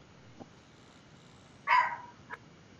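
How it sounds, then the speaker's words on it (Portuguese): A small dog gives one short, fairly loud bark, with a couple of faint softer sounds before and after in an otherwise quiet room. "Ô Silvio, você quer deixar o cachorrinho falar?"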